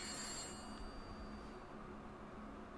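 Telephone ringing in the horror game The Beast Inside, a bright electronic ring fading out early over a steady low ambient rumble and hiss.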